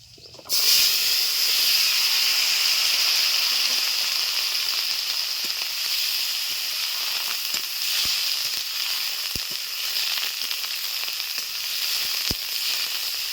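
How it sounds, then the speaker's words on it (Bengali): Chopped young jackfruit dropped into hot oil with black cumin seeds, bursting into a loud, steady sizzle and hiss that holds for several seconds, with a few faint clicks of a utensil against the pan. "দিয়ে দিচ্ছি ছোট ছোট করে কেটে রাখা এঁচড়"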